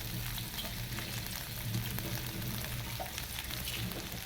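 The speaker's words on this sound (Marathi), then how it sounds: "चटचट चटचट असा आवाज येत आहे ते पूर्णपणे भाजलेलं भाजलं जात आहे" Khichdi crackling and sizzling as it roasts in a pan, a steady soft frying hiss with faint scattered pops, moderately quiet and close.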